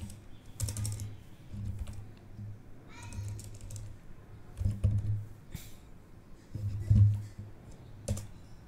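Keystrokes on a computer keyboard as Windows 11 repair commands are entered, a steady run of close clicks and taps with a low background hum underneath.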